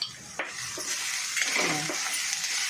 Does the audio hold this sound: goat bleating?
no